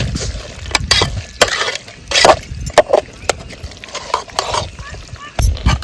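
Vajri masala being stirred in a pan over the heat, with a spoon scraping and clattering against the metal amid a soft sizzle in irregular close strokes, with no one speaking.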